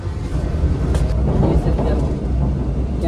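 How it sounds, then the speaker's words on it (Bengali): Inside India's Vande Bharat sleeper express as it runs past Kishanganj station, a loud, continuous rumble of wheels and carriage noise rolls on steadily, with a voice faintly audible over it. "দেখতে পাচ্ছ আমাদের ট্রেন কিন্তু এখন পার করে যাচ্ছে কিষানগঞ্জ রেল স্টেশন"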